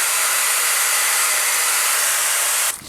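A hair dryer fitted with a diffuser blows a steady, loud hiss of airflow while drying stretched, twisted type 4 curly hair, cutting off abruptly near the end.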